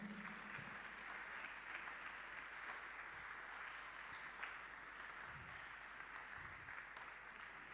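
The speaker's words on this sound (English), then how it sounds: "Somebody clap for Jesus." A congregation clapping for Jesus at a Ghanaian church gathering, a steady wash of many hands applauding at a moderate distance, continuous for the whole stretch with no one speaking.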